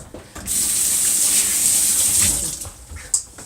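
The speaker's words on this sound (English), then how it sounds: "I'm gonna wash my hands." Tap water runs into a sink for hand washing, a steady close hiss that starts abruptly, flows for about two seconds and then tapers off, with a small clatter near the end.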